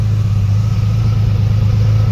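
A deep, smooth V12 engine of a 1973 Jaguar E-Type Series 3 hums steadily at close range, a sustained rumble with a faint rasp and no voices.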